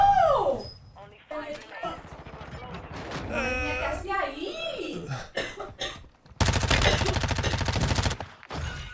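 MP5 submachine gun fire in the video game Warzone, a dense rapid burst of shots near the end, preceded by game sounds and people talking.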